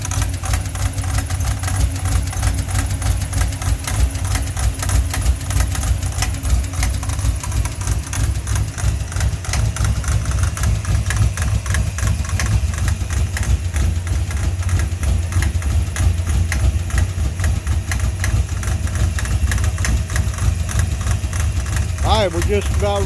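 Car engine idling with a steady low rumble and a rapid rhythmic knock from a wrong-size belt after a smog pump delete, running continuously and close for over twenty seconds.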